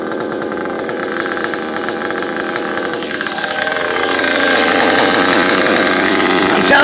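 A nitro RC buggy engine, an original Mugen MBX5 running a modified REDS R5R/Triton 2148, idling rich in a steady, buzzy drone that grows louder and rougher over the last few seconds, close to the microphone with no talking.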